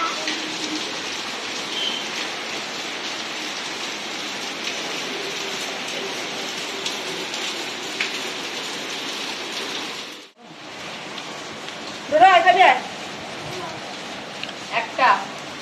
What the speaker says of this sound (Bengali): খুব জোরেই বেশ বৃষ্টিটা এসছে।